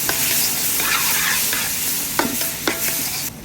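Onions and tomatoes sauté in a pan for Kerala-style kadala curry, a close, continuous sizzle with a few sharp spoon scrapes and taps near the end.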